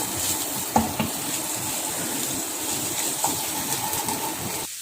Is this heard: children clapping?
no